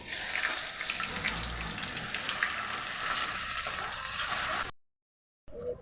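Cumin seeds, bay leaf and onion frying in hot oil in a home kitchen, a constant close hiss and sizzle that cuts off briefly near the end before resuming.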